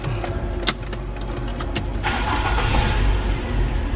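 An older Nissan car is started: a few clicks and a short starter crank, then the engine catches and settles into a steady idle close to the microphone.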